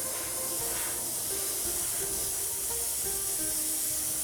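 An airbrush pre-shading a 1/48 Fujimi Mitsubishi A6M2 model gives a steady, close airy hiss of spraying paint without pause, with no voices.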